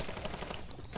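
Light machine gun fire in Fortnite, a dense rapid rattle of shots over one second, fairly quiet and without talk.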